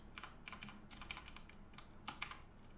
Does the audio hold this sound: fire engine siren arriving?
no